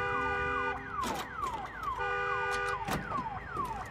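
A car alarm wails in the zombie survival game Days Gone, its repeating falling-tone pattern cycling steadily and loudly, with sharp impact-like bursts breaking in between cycles.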